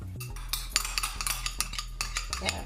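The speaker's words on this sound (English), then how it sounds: "We're going to give that a stir" A spoon clinks and scrapes rhythmically against a bowl while salt, sugar and yogurt are stirred into semolina bhature dough, quick close metallic taps over a low steady hum.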